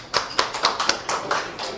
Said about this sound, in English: Please, a big applause, because she worked very hard.